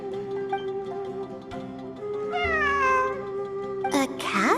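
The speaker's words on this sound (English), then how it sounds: "It really is a cat." A cat meows in the video game Genshin Impact, a clear, near, drawn-out meow with rising and falling pitch over a steady tonal music bed, ending with a brief burst of sharper noise.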